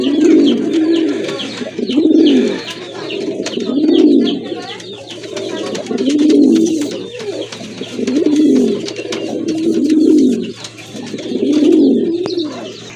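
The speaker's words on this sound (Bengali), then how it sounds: "এটা হচ্ছে আপনার আনার চোখের কবুতর" Pigeons coo loudly and close up in a slow, rhythmic series of swelling throaty calls repeating about every two seconds, with a faint steady hum underneath.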